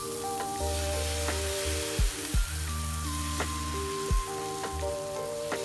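Vietnamese bánh xèo pancake with shrimp and mushroom sizzling in a pan, a steady crackling fry under sustained tonal background music, with a few brief low thumps.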